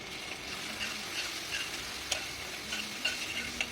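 Ginger, garlic and green chili paste with turmeric sautéing in a pan, a steady close sizzle with occasional scraping and tapping of a spatula against the metal.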